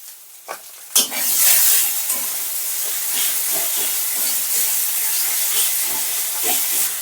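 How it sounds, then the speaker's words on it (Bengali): Ground spices, turmeric and cumin among them, frying in a pan with a loud, steady hiss and sizzle that starts abruptly and carries on close up, with faint stirring scrapes beneath. "মশলাটা হালকা হালকা করে কষিয়ে নেব"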